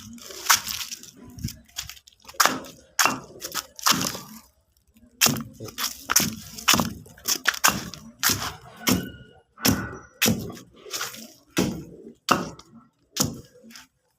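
Repeated crunching and cracking of eggshells being crushed for pigeon feed grit, irregular bursts in quick succession with brief pauses.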